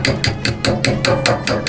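Repeated metal-on-metal hammer blows strike a spanner on a rounded nut of a 1970s Suzuki Jimny SJ10, eight sharp close taps in an even, quick rhythm with no talk.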